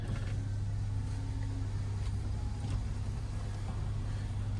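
An Acura RDX on a test drive after mechanical repair work, heard from inside as a steady low engine and road drone with constant rumble and no voices.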